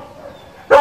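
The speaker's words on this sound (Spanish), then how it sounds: "Por lo menos ahora ya los perritos avisaron que aquí estamos" Several dogs greet arriving visitors with a single loud, close bark that bursts out at the end after a quiet stretch of low background noise.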